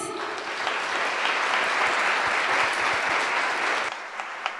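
Steady applause from a large church congregation before a Christmas play, dense and sustained for about four seconds before thinning out to a few scattered claps.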